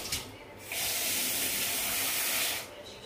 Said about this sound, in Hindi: आधा कटोरी जो चावल है इसको मैं धुलकर और थोड़ा भीगने के लिए रख देती हूँ